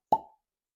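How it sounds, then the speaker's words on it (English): A single soft, close cork pop as the stopper is pulled from a sealed Stagg Jr. Batch 17 bourbon bottle, followed by silence. "Cork pop."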